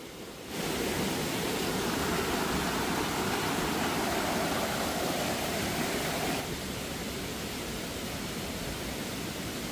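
A river rushes loudly where a side stream pours into it, a steady, dense roar of water that holds evenly for nearly ten seconds and eases slightly toward the end, with no voices.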